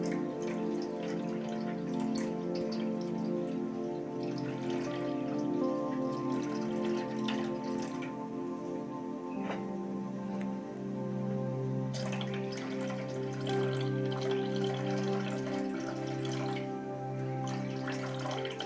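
Water poured off soaked papad batter, soft trickling and dripping at close range over a low steady hum, with no talking.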